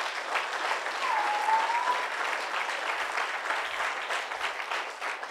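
A church congregation applauding together, dense steady clapping that fills the room evenly for several seconds, loud and sustained without a break, with no speech over it.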